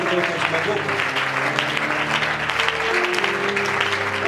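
A church congregation applauding loudly and steadily, dense clapping from a crowd with voices mixed in.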